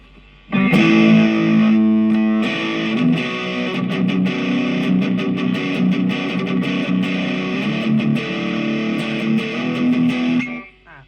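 Distorted electric guitar through a Cuvave Baby multi-effects unit plays a gritty, sustained riff for about ten seconds, chords and notes ringing loud and saturated before cutting off.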